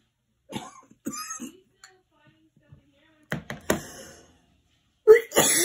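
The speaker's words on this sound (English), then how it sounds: "I apologize. I'm coughing a bit." A person coughs and clears their throat in several rough bursts, close to the microphone, with quiet pauses and a few soft knocks between, and a brief vocal sound near the end.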